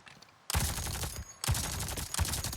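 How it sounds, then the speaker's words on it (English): Assault rifle fire in the Avatar video game, loud and close, arriving in three sustained automatic bursts separated by brief gaps. "What if I try my assault rifle?"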